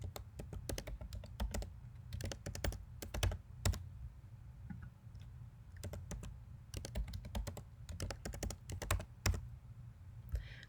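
Keys tapped on a computer keyboard while a password is typed, in quick irregular bursts of clicks with short pauses, close and fairly quiet, with no talking.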